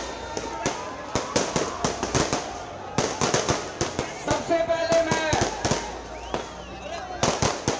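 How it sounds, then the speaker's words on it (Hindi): Rapid, sharp firecracker bangs crackle in irregular bursts, loud and close, set off by Aam Aadmi Party workers in celebration, while someone speaks over the popping. "पटाखे जला रहे हैं आम आदमी पार्टी के कार्यकर्ता"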